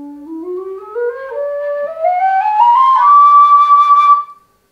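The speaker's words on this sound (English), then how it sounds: "With a small window, you'll have a quiet whistle." A James Dominic tunable low whistle, played with a small window, gives a quiet tone rising steadily in pitch from low to high over about four seconds, clean and continuous, stopping abruptly.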